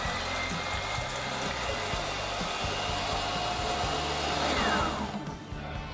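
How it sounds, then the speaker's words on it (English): Eggs whisked until fluffy for dulce de leche ice cream, a steady, even mechanical whir that runs without a break and fades slightly right at the end. "we're going to give the eggs a good whisk, about 2 to 3 minutes"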